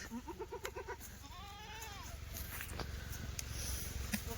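Goats at a livestock sale bleat, first in a quick burst of short calls and then in one longer wavering cry, while someone talks over them throughout.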